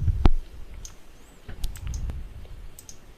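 A few sharp computer mouse clicks at a desk, isolated and close, separated by pauses, with faint low rustling and handling noise between them and no talking.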